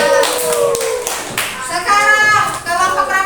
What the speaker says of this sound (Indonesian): Kita kasih tepuk tangan untuk kelompok 2.